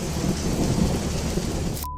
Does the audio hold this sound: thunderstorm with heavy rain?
yes